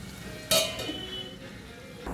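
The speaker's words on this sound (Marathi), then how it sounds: "चला, मी परत झाकून ठेवते." A lid is set back onto a cooking pot of frying stuffed bitter gourd with spiced masala: one sharp metallic clink, then low kitchen hiss and a faint second knock at the end.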